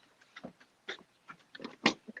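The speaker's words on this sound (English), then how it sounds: "Sorry, gotta get the dog in the house." A dog outside a house making a few short, soft whimpers and yelps, scattered irregularly and fairly quiet, with no talk over them.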